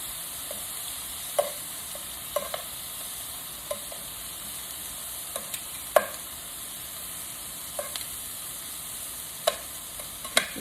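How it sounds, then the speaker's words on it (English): Shrimp cook in a pan with a steady, soft sizzling hiss throughout, punctuated by scattered faint clicks and light taps of a utensil, with no voices. "we're gonna cook the shrimp."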